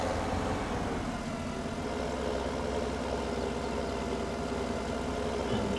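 Tractor engine droning steadily while driving back and forth to compact silage in Farming Simulator 17, a constant loud mid-low rumble with little variation.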